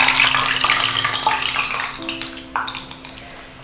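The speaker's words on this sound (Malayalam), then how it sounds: "ഇനി നമുക്കിത് തിളച്ച് കിടക്കുന്ന എണ്ണയിലേക്ക് ഇട്ട് കൊടുക്കാം" Payasam glass batter slipped into boiling oil, giving a bubbling, crackling fry with some tonal clinks and hiss that gradually eases off, close by and with no one talking.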